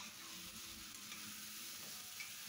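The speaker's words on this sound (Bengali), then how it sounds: "বড়াগুলো এবার এই মশলার সাথে ভালো করে কষিয়ে নেব" Steady sizzling from a pan as fried besan fritters are stir-fried in spice paste, with occasional scraping and stirring, continuous and close, no voices.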